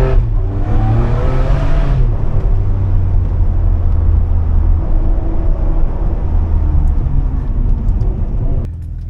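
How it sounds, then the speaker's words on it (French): A Ferrari 599 GTB Fiorano V12 engine revs up with a rising roar, then settles into a loud, steady drone that drops off abruptly at the end. "Le couple et le son du V12"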